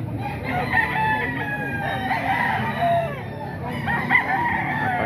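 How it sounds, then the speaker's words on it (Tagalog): Chickens sold at market crow and cluck together, with several birds calling at once under a busy background murmur and occasional nearby voices. "Ito mga quality manok mga kaidol"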